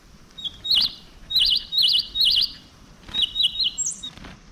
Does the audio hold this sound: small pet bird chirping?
yes